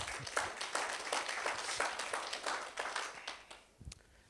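Wedding guests clapping in a room, a soft steady patter of many hands that thins out toward the end, distant and fairly faint.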